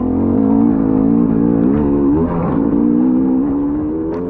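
Dirt bike engine in a hare scramble race, revving hard and close with a wavering pitch as the throttle opens and eases, heard alone.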